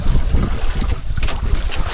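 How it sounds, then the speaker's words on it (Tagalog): Strong wind buffets the microphone with a continuous low rumble at sea while fishing, with water or a boat churning faintly underneath. "Medyo may hangin pa"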